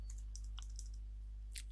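Quick, light keystrokes click on a computer keyboard in short bursts, faint and close over a steady low electrical hum.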